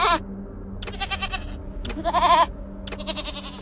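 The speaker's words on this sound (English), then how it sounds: "they put multiple goat cries in here" A series of goat bleats from the video game Wasteland 3, several separate quavering cries in quick succession, close and loud, with no talk.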